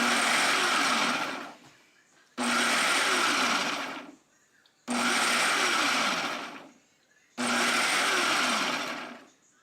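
A food processor chops strawberries for jam in four loud bursts of whirring motor, each about two seconds long, separated by brief quiet pauses, close up and without speech.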